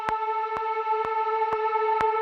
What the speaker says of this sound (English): So I'm just going to loop this and add a ton of reverb.